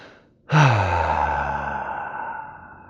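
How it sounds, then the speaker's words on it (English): A single big, audible breath pushed out through the mouth during a yoga session for slipped disc problems: a breathy, sighing exhale that starts suddenly after a brief pause and fades slowly over about two seconds, close up. "Nice big audible breath. Good, good, good. And exhale out the mouth."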